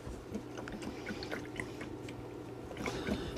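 A paintbrush is swished and tapped in a water cup while being cleaned. It makes soft, close sloshing and dripping sounds in irregular little bursts, quiet and with no talking.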